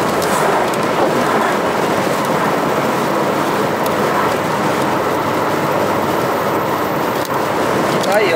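Rain falls during a highway road trip on the BR-116 near Jequié, Bahia, making a steady, dense hiss that stays loud and unbroken from start to finish and blends with the rumble of the moving vehicle.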